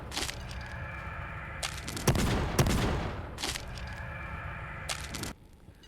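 Gargoyle Shotgun in Pixel Gun 3D firing energy blasts: sharp, bright cracking discharges in a few spaced bursts, with a heavier blast in the middle, loud and close with no talk.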